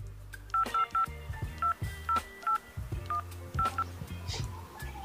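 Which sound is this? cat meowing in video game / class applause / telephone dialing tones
telephone dialing tones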